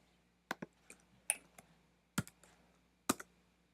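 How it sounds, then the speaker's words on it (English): Quiet, close computer clicks while a spreadsheet cell is selected in Excel, several sharp taps spread irregularly over a few seconds against a faint hum. "Simply click on this cell, product ID,"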